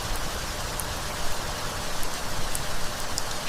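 Rain pours steadily during a storm among dense trees, a continuous hiss of falling water with scattered faint drop pops, moderately distant and unbroken throughout.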